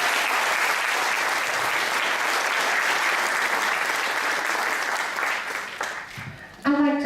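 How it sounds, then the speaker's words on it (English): A crowd at a nursing camp claps for the students in sustained, dense, loud applause that holds steady for several seconds, then thins and breaks off near the end as a voice begins. "Give my students a round of applause."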